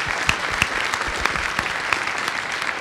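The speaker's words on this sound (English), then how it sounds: "let's give Katie a big round of applause" A conference audience at PyCon 2015 gives a speaker a round of applause, dense, even clapping from many hands filling the hall at steady volume, with a few sharper claps standing out.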